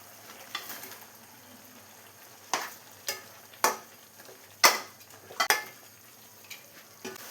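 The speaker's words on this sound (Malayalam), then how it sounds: "ഇപ്പോൾ എല്ലാം കൂടെ തിളച്ച് വരുന്നുണ്ട്." Chicken kondattam cooks in a pan with bursts of sizzling and the scrape and clink of a spoon stirring at irregular intervals, close and moderately loud, with no talking.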